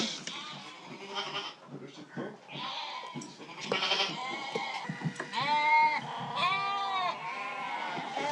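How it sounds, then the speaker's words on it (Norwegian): Spelsau sheep, an old Norwegian breed, bleat repeatedly on Mykines, several animals calling close by in overlapping wavering cries, loud and alone. "Den rasen den är mer besläktet med den gamla norska sauen som heter spelsauen."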